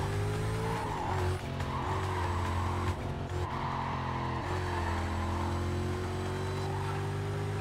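A car drives in Need for Speed Carbon, its engine droning steadily while its tires squeal in repeated skids. The sound is loud and close, with no talk.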